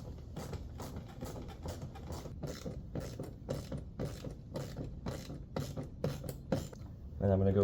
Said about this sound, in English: I actually have to use pliers to hold the back of it, and then a 10mm socket on the other side